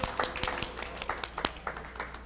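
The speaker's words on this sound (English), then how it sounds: "we all need to give ourselves a round of applause" A small group of meeting attendees claps at a final advisory meeting, a sparse scattering of uneven hand claps at moderate distance over a low room hum.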